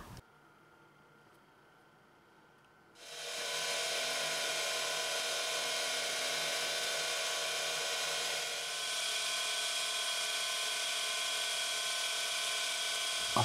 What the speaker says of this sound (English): I change to this semispherical buff that works really well in the concave curvature of the internal side